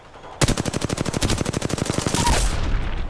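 Sustained automatic gunfire in a shooter video game: a rapid, steady burst of loud, closely spaced shots lasting about two seconds, fading into a ringing tail.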